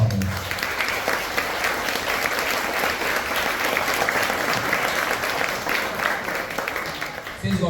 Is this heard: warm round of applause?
yes